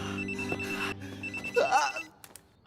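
A telephone rings in a quiet indoor room, a steady electronic ringing tone that fills the first two seconds before cutting off, followed by a few faint knocks and rustles.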